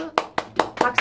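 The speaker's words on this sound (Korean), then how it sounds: "박수!" Hands clap sharply in an even rhythm, five crisp claps in quick succession, close and loud.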